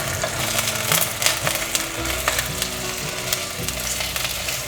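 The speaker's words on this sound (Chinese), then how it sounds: "再继续让它慢慢煎。" Potato slices fry slowly in a pan for a vegetarian dish, a steady crackling sizzle close up with faint scraping as they are turned.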